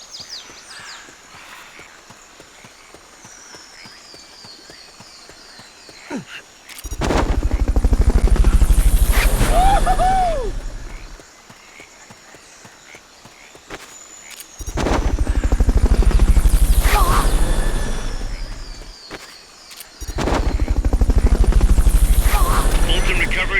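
A helicopter in the Metal Gear Solid Peace Walker video game roars in three long, loud swells of rotor and engine noise, separated by quieter gaps with faint game effects.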